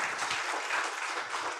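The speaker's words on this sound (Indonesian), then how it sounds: "Tepuk tangan dong buat Bapak Ibu sekarang ya." An audience claps together at a gathering, a fairly steady spatter of applause at moderate distance that runs without letup.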